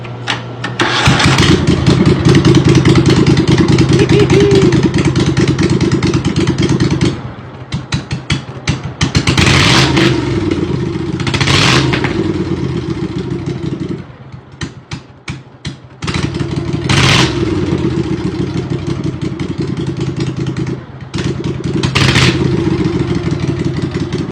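A Cub Cadet 3000 series riding mower engine running on a straight pipe, loud raw exhaust bark that starts up, revs in several surges and drops back between them, close and without talk.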